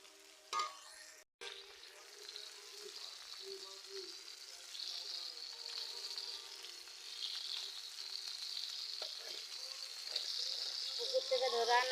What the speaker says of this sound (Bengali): এদিকে মাছ ভেজে নিচ্ছি।